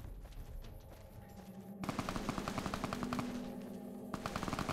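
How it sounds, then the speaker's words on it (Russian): Rapid bursts of automatic gunfire in the video game Fallout: New Vegas rattle continuously, loud and dense, with a brief lull before the shooting resumes at full intensity. "Стрельба какая тут."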